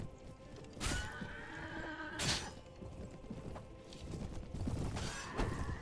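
Horses neigh and whinny amid a Mount & Blade Warband medieval battle, with two loud, sharp bursts standing out over a steady din of clattering hooves and combat noise.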